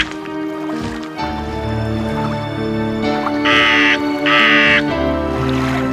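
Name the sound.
raven cawing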